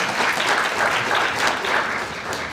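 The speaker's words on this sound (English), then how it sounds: "Could we have a round of applause for our Congressman John Carney?" Audience applause for a congressman at a Delaware civic event, a steady dense wash of clapping that stays loud and even throughout with no voices over it.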